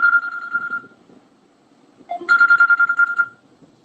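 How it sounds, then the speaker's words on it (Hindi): A phone ringtone plays a short electronic melody, pauses briefly, then repeats a louder, busier phrase of the same tune. "ये देखो फिर से फोन आ गया।"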